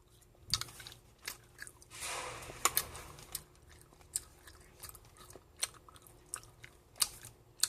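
Someone bites into a chocolate-dipped banana coated in candy sprinkles, made from a Poppin' Cookin choco banana kit, with close, crisp crunches and intermittent chewing, separated by short quiet gaps and no talking.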